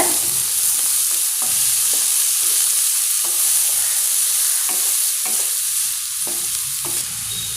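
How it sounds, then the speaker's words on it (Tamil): Onions sauté in oil for vada curry with a bright, steady sizzle, punctuated by occasional knocks and scrapes of a utensil stirring the pan. "வெங்காயத்தை நல்லா வதக்கிக்கோங்க"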